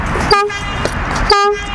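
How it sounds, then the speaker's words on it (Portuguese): Two short honks from the horn on a Felt Bandit chopper motorcycle, the second about a second after the first, each a bright nasal toot standing clear over low background rumble. "Aqui tá a bomba da buzina"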